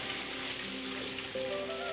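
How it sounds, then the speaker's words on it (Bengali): Hot water goes into a pot of Bengali mutton curry with potatoes, producing a close, steady sizzle and hiss with a faint pouring trickle and no talk. "হাঁড়িতে আমি গরম জল দিয়ে দিচ্ছি।"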